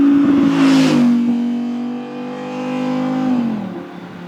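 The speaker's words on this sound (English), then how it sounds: "When that V10 bounces off those walls, it is heavenly." An Audi R8 V10 Performance Spyder engine revs hard, a loud rising howl that settles into a sustained high-pitched drone before tapering off, echoing off nearby walls.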